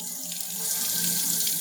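Water gushing out of the vacuum breaker on a garden tap, a steady close hiss of spraying, rushing water that grows slightly louder and runs without a break.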